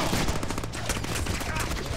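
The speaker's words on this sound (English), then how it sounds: "the machine gun guy is gonna kill me again" Rapid machine gun fire in the Deadpool video game, a dense, continuous burst of loud shots with no gap across the short stretch.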